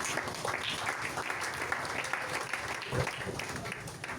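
Church congregation applauding at a French-language service, steady sustained clapping from a crowd filling the room, with faint voices mixed in.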